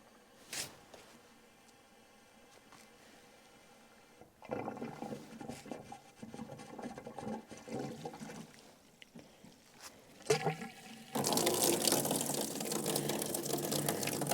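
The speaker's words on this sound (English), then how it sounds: "First test for running water." Running water begins filling a tank on a remote island farm in a first test: quiet handling noises, then splashing and gurgling that builds into a loud, steady rush near the end.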